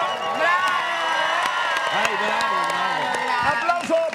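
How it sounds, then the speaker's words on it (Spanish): A live studio audience at a comedy karaoke show breaks into loud sustained applause with cheering, whoops and shouts, while voices and music carry on over the noise. "Aplauso para Margarita."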